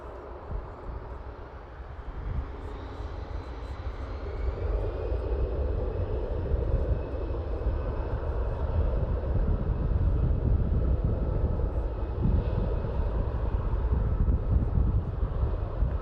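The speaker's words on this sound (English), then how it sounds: "Another Air Canada Rouge right after this one." An Air Canada Rouge airliner at Toronto airport builds from a quieter roar into a loud, sustained engine rumble with a thin high whine, steady to the end with no talking.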